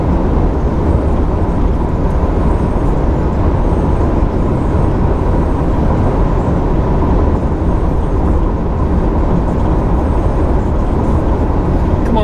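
A Cupra Born electric hatchback accelerating hard at high speed, heard from inside as a loud, steady broadband road and wind roar that holds constant throughout without breaks.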